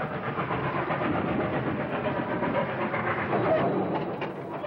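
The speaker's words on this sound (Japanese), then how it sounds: "急坂に挑む蒸気機関車の力強い姿" Steam locomotive laboring up a steep 25-per-mille mountain grade, a loud continuous rumble of chuffing and rolling wheels that holds steady throughout.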